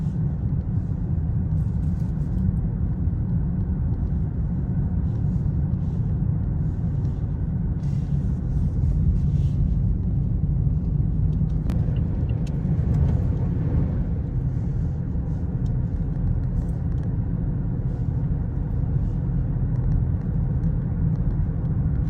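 Car cruising along a national highway on a clear day, a steady loud low road rumble and engine drone heard from inside the vehicle, continuous throughout, no talk.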